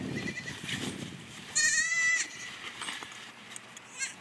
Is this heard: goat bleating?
yes